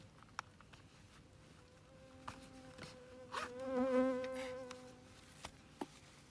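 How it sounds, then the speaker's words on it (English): Mosquitoes whine close by outdoors in Kalajoki, Finland, a thin high buzz that swells and fades as one passes near the microphone, with a few soft clicks around it. "Frickin' mosquitoes."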